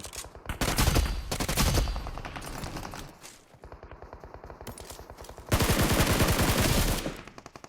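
Rapid automatic gunfire from the PUBG Mobile video game, with dense bursts of shots echoing through a room, a brief lull of scattered single shots, then another sustained volley.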